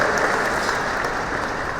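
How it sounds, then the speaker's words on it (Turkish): A live audience at an awards ceremony applauds the jury, dense continuous clapping from many hands, steady and fairly loud for the whole short stretch with no voices over it. "Jürimizi alkışlıyoruz efendim"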